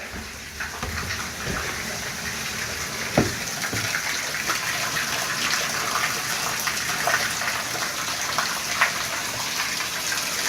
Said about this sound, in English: Apparently the pipes broke.